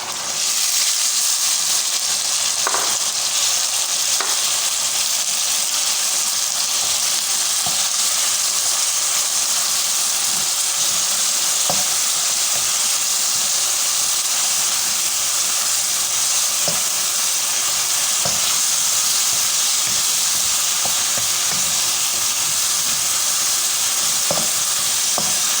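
Boiled mustard greens (sarson saag) sauté in a pan with a steady, close frying sizzle and soft intermittent stirring taps throughout.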